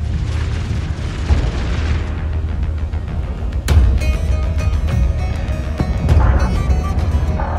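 Explosions hit the mothership under fire in Homeworld 3: a continuous heavy rumble, one sharp loud burst partway through and further booming swells near the end.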